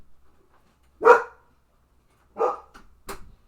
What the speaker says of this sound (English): Yep, just gotta go bark at nothing.